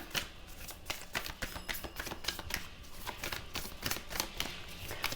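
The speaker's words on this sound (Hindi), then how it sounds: "See, I'm shuffling in front of you" Tarot cards shuffled close up in a steady run of rapid, crisp papery riffles and slaps, continuous and fairly quiet with no speech.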